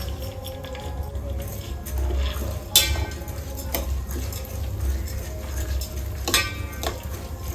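Rice frying in hot ghee over a low flame, a soft steady sizzle close by with occasional spoon clinks against the pan.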